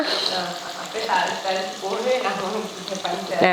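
Onions sautéing in oil in a pan, a busy crackling sizzle with stirring scrapes, while a person talks over it throughout.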